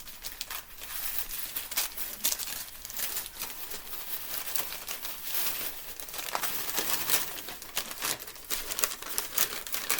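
Christmas present being unwrapped by hand, with close, busy crinkling and crumpling of wrapping paper and occasional tearing in irregular bursts that continue throughout.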